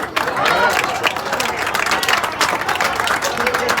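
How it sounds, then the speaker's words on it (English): Crowd applause for a young man at a football field ribbon cutting, a busy outdoor clatter of many clapping hands with some cheering mixed in, sustained for about four seconds with voices audible in the crowd. "Give that young man a round of applause."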